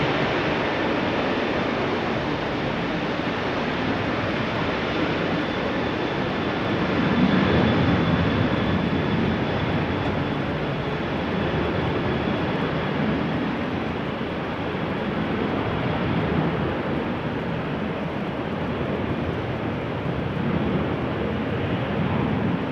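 Boeing 737-800 bound for Bucharest at rainy Amsterdam Schiphol Airport, a broad steady jet engine roar heard from a distance, holding even and unbroken for over twenty seconds.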